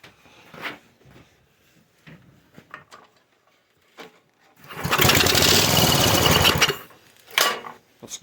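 A Briggs & Stratton 5.5 hp engine on a Craftsman rototiller that was left outside runs in a short, loud burst of about two seconds amid quiet handling noises, then cuts off before a brief final rev.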